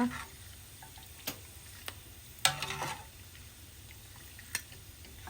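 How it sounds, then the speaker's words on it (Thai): Pork skin frying in hot oil, a faint continuous sizzle broken by a few sharp pops and crackles at irregular intervals as the skin bursts and crisps. "ตัวหนังหมูเขาก็เริ่มแตกแล้วก็กรอบขึ้นเลย"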